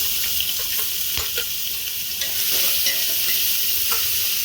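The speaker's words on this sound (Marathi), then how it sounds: "आता याच्यातच टाकूया आपण कांदा बारीक चिरून घेतले" Finely chopped onions fry in hot oil for a spicy mutton curry, a steady close sizzle with occasional stirring scrapes and clicks throughout, no voices.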